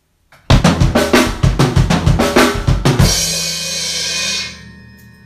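A linear drum fill played on a kit, a rapid run of sharp, loud strokes moving across the drums before ending on the rack tom, followed by a crash-like cymbal wash that rings and fades.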